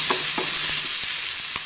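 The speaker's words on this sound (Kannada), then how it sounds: "ಈಗ ದೊಣಮೆಣಸು ಹಾಕ್ತೀನಿ" Capsicum (bell pepper) hitting hot oil in a pan for dill-leaf chitranna rice, giving a steady close broadband sizzle with a few soft spoon-stirring knocks, no talk.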